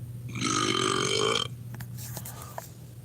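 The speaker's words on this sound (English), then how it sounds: "Hey, Google, give me a burp." A Google Home smart speaker plays a long, loud, gurgling burp sound effect lasting over a second, followed by softer brief clicks and rustles over a low room hum.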